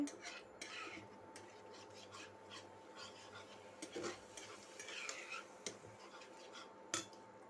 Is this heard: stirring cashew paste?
yes